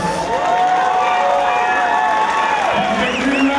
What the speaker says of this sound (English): Give both of these fighters a big round of applause